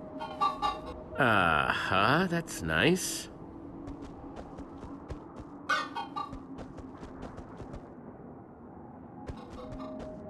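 Chickens in the Minecraft Story Mode video game give short bursts of clucking and one longer wavering squawk. The calls are close, with quiet stretches between them, and a person speaks briefly.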